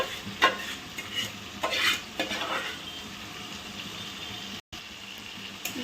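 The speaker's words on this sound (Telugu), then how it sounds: "ఇప్పుడు కలుపుకోవడమేనండి, ఇది బాగా కలిసిందాక." A spoon stirs a tangy gongura (sorrel leaf) paste ground with coriander and salt into a prawn curry, giving soft scraping and wet squelching strokes with a faint sizzle and light utensil clinks, with no talking.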